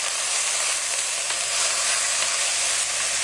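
Red wine vinegar hits a hot pan of caramelised onions, making a loud, continuous steamy hiss and sizzle that stays even throughout, close up and with no voices.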